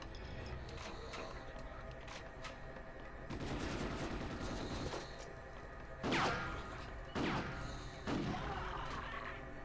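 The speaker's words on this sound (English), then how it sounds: "Now that's a shotgun." Shotgun blasts in a Ghost in the Shell video game, a few sharp heavy reports over a busy backdrop of mechanical clatter and rattling effects, with two louder booming shots near the end.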